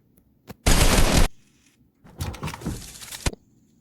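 Gray pump shotgun blasts in a mobile battle-royale solo cash cup match: a loud, sharp burst followed a moment later by a rougher cluster of firing, with short quiet gaps around them.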